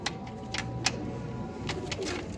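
Soft, low cooing of teddy pigeons runs steadily through the background on a rooftop in Sialkot, with a few short bird chirps standing out above it.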